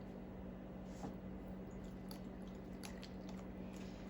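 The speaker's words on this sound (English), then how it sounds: "we're gonna come back in and get this a really good mix now." Soft wet squishing as a creamy Tuscan chicken mixture topped with Parmesan cheese is stirred in a crock pot, a faint, steady churning with a few small drips and no talking.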